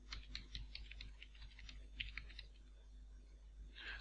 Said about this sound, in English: on the second step of this processor, you need to type your web address